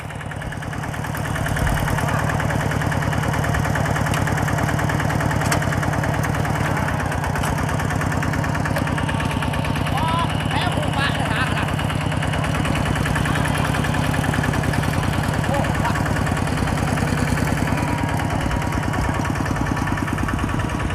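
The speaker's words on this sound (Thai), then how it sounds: "ปกติแล้วที่เห็นเพื่อนขับรถไถคันนี้เนาะรถไถสามเกียร์ธรรมดา" A farm tractor with a four-speed manual gearbox runs steadily nearby, its engine chugging in a loud, continuous idle-like drone with no talk over it.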